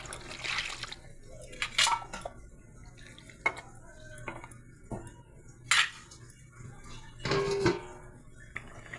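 A lid goes onto a pot of fish curry with fried bitter gourd, giving a few separate metallic clanks and clatters among quieter bubbling and liquid sounds, close by and fairly soft.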